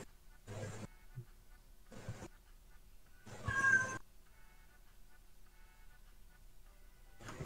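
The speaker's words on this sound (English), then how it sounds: "I heard a cat." Several separate cat meows come in short bursts with quiet gaps, one louder and longer than the rest, heard close and clear.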